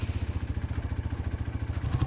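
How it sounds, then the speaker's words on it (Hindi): A Hero Xtreme 160R motorcycle idling, its exhaust giving a soft, steady, rapid low thumping pulse with a slight rise near the end, fairly quiet and without any talk. "एग्जॉस्ट नोट कैसा है"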